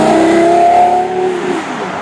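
Porsche Carrera GT engine heard from the cabin while driving, a steady droning tone that rises in pitch and then eases off, fairly loud and continuous, with no talking.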